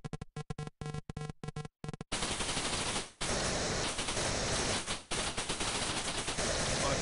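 Shooting in the arcade game Tempest: first a quick staccato run of electronic zaps in bursts, then a dense, continuous wash of loud synthetic firing noise with two brief dropouts.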